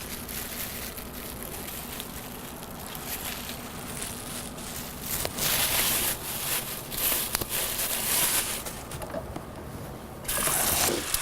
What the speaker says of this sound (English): I am rinsing the shrimp to make sure that I am feeling them